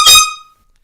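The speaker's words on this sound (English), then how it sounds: "then I'll give them old toot of the air horn" A loud air horn gives one short toot with strong stacked harmonics, blasting for about a quarter second and then trailing off into near silence.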